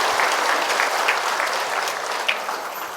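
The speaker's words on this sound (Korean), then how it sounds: "우리 촬영팀 위해서 박수 한번 주세요." An indoor audience at a Catholic parish lecture gives steady, sustained applause for the filming crew, with dense clapping from many hands that tapers slightly toward the end.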